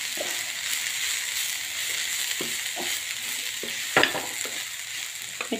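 Finely chopped cabbage being stirred and mixed by hand with coriander-cumin powder, chaat masala and ginger-chili-garlic paste: a steady close hiss broken by soft, scattered scraping clicks, with no voices.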